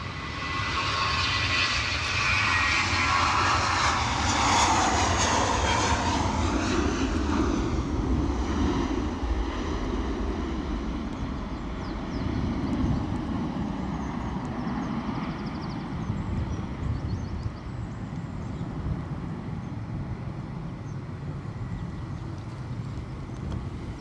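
A Qatar Airways Dreamliner jet airliner at Edinburgh Airport, a loud roaring engine whine that peaks early and then slowly fades into a distant rumble, with gusty wind noise throughout.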